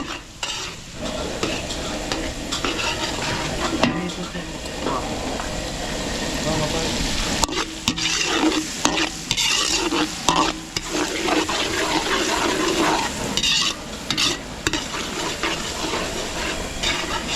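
Garlic and onion sautéing in butter mixed with a little oil at a catering kitchen in Angeles City, Pampanga, a loud continuous sizzle with frequent stirring clatter and scraping, voices talking intermittently over it.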